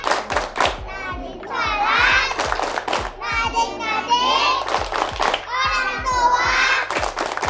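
Children chant and clap the rhythmic 'tepuk anak soleh' routine, sharp hand claps falling in regular patterned groups among their sung voices, close and loud.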